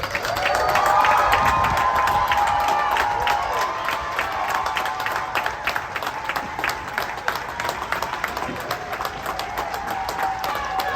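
A large graduation audience at a Universal Technical Institute ceremony claps and cheers loudly and steadily, a dense crowd roar with scattered whoops that holds strong throughout and eases only slightly toward the end.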